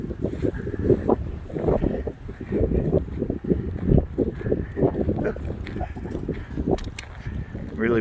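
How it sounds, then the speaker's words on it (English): Strong wind gusts outdoors at a lakeside campsite in Alberta, Canada, buffeting the microphone in loud irregular rumbles, with water faintly audible beneath. "Really windy."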